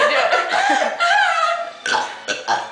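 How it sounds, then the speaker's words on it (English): Several drawn-out, croaky burps during a burping contest, loud and close, coming in bursts of varying length with short gaps, one long rolling belch followed by two shorter ones. "I love your burps."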